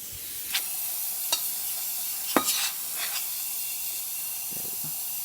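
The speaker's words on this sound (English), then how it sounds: "steamer working perfectly fine" Steam wand on a freshly tuned La Pavoni lever espresso machine hisses continuously with a bright, airy rush, broken by a few sharp clicks and sputters, close by and with no talking.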